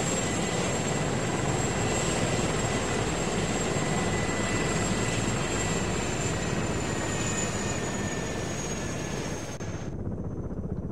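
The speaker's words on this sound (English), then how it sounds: "Stay low, helicopter blades can chop your head off." A helicopter in the ArmA III military game flies with a steady, loud rotor and turbine roar that fills the whole stretch, with a high engine whine on top, then cuts off sharply near the end.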